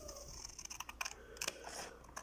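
Scissors snip around the outline of a paper shape, giving quick, close, irregular clicks and crisp cuts with brief pauses between them.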